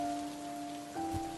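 Rain falls in a faint, steady hiss, with a soft sustained tone running underneath.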